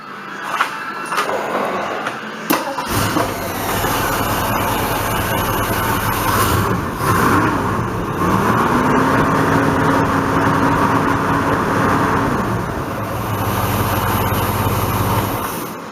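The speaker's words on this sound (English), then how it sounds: "And yes, that is a cold start." A 35-year-old Ford Bronco hot rod engine cold-starts with a sharp crank, then idles in a steady, loud rumble that holds for the rest of the clip, with a rising and falling whine around the middle.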